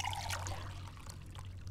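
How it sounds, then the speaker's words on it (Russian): An office water cooler in the Fahrenheit video game pours water in a soft, steady trickle that runs throughout under a low background hum. It sounds fairly faint and close, with no talking. "Кулер? Дай водички."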